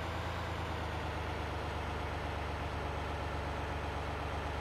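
A tractor engine in Landwirtschafts Simulator 2013 drones at a steady low idle, a continuous faint rumble with no change in pace and no talk.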